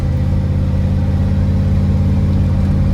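A dump truck engine revs on short throttle, a loud, steady low rumble with a rough, pulsing mid-range roar, close up and continuous with no voices.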